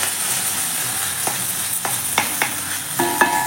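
Onion, tomato and garlic sauté in a hot pan with a steady sizzle, punctuated by several sharp spatula scrapes and taps that grow more frequent toward the end, with no voices.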